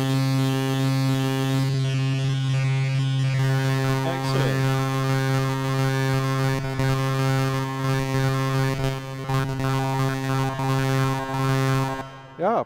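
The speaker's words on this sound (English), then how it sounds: "this is again a filter sweep with a raised resonance" A synthesizer plays a sustained buzzy tone whose filter, with raised resonance, sweeps up and down in whistling, vowel-like arcs over a steady drone at a trade-show booth, loud and continuous for several seconds.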